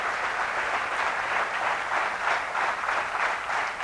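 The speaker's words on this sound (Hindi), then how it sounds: "मिस्टर राजीव चतुर्वेदी, मैं चाहूंगा एक जोरदार तालियां होनी चाहिए उनके लिए" An audience gives steady, dense applause for Mr Rajiv Chaturvedi, continuous and moderately close throughout with no talking.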